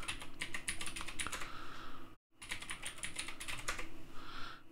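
Rapid keystrokes on a computer keyboard as a password is entered at a Linux desktop, steady close clicking with a brief silent gap midway, no voices.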